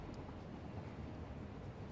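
A train in the factory-building video game Satisfactory rolls along as a steady, low rumbling drone with faint rail texture, continuous and moderately quiet throughout with no voices.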